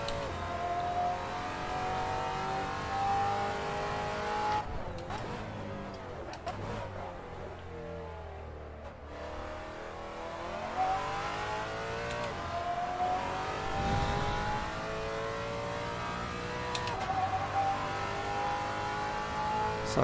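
Race cars take a circuit chicane at full throttle, their engines howling near and loud with pitch swelling and falling as they pass one after another over a steady roar.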